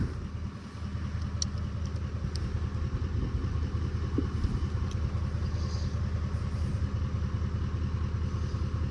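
A motorcycle engine is cranked over in a repeated attempt to start but does not fire, giving a steady, close, mechanical rumbling clatter that runs without a break.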